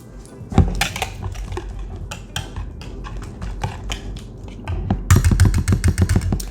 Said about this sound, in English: I'm just going to take some time and blend this up really good